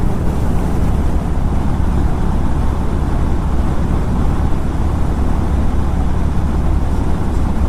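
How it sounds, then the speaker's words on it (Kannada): Honda Hness motorcycle ridden at high speed along a highway, heard as a constant loud roar of wind buffeting and engine drone from the rider's position, steady and unbroken with no talking. "Bike high speed."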